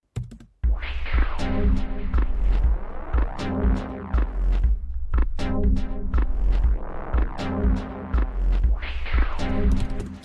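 Layered dub techno synth chords pulse in a steady rhythm through a slow-rate chorus effect, giving a shimmering, gently swirling texture, bright and full, with no voices.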